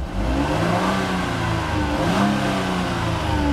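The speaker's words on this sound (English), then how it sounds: "Revs up nicely, idles smoothly." A 2008 Jeep Wrangler X Unlimited engine revs up and settles back, its rising and falling drone loud and close, steady for a few seconds with no talking.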